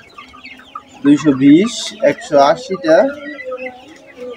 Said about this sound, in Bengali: তো অনেকগুলো মুরগি বিক্রি করছি